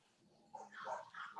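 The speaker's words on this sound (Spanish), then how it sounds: "They're barking at the back." Dogs at a breeding kennel bark from the back, a few short, moderately loud yips and barks in quick succession over faint background noise.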